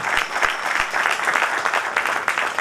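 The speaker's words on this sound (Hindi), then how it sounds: "जोरदार तालियां बजाएं" An audience at a trade association function applauds, a dense burst of many hands clapping close by that carries on steadily through the moment.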